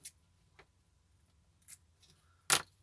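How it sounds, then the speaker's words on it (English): Scissors snipping through a piece of double-sided tape: a few faint, sparse clicks, then one sharp, louder snip near the end, close and otherwise quiet. "I get a bit of double-sided tape and just cut a piece"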